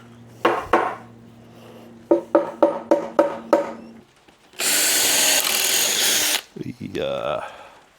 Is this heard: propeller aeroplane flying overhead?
no